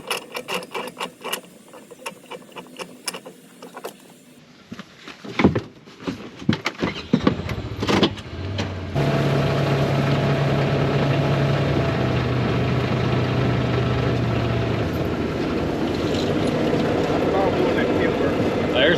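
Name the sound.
combine harvester engine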